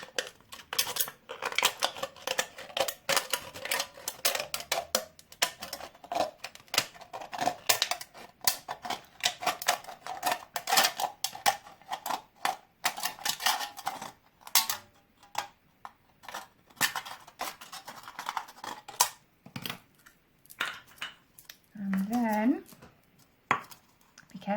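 Scissors snipping around the rim of a cut tin can, a rapid run of sharp metallic clicks and crunches close up, thinning out toward the end with a brief voice.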